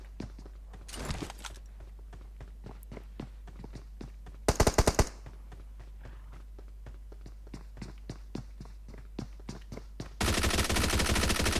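Gunfire in the PUBG Mobile video game, rapid bursts of automatic shots and sharp single cracks spread through, with a dense loud volley near the end.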